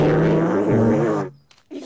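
In a cartoon, a recorder is played badly, giving a wobbly, off-pitch tone that wavers for over a second before breaking off into brief sputters.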